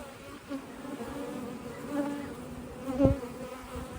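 Honey bees buzz around a beehive in a steady, low droning hum, with individual bees passing close by and swelling briefly louder; no talking.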